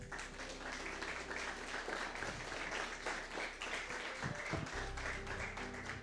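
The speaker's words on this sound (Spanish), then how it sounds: "Denle un fuerte aplauso al Señor." Worshippers in a church give a sustained round of applause, many hands clapping in a thick, steady stream, with a few sharper taps and thumps near the end.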